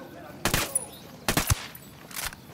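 Enemy gunfire in Ghost Recon Wildlands: three loud, separate bursts of rapid automatic shots with short quiet gaps between them.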